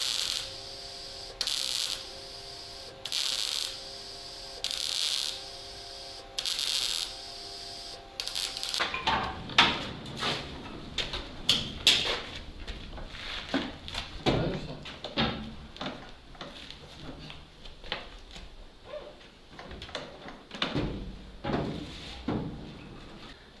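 Doors being fitted onto a ZIL 131 truck cab: after a steady hum, a run of sharp metallic clanks, knocks and rattles comes irregularly at close range, with no voices.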